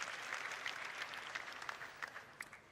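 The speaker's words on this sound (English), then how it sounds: "You guys clap too much." Applause from an audience at a Star Citizen presentation, a steady quiet patter of many hands clapping at a distance, with no voices over it.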